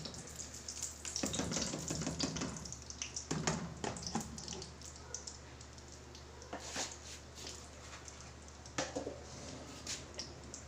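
Ghee heating in a kadhai before frying steamed chicken, a soft steady hiss and light sizzle with a few clinks and scraping stirs, close and quiet.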